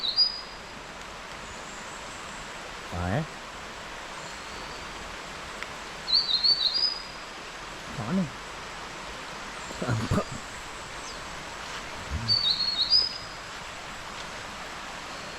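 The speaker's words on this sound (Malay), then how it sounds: "kalau korang boleh dengar bunyi burung tu" Faint high bird chirps repeat every few seconds outdoors at a campsite in the morning, with a few brief spoken words and rustling in between.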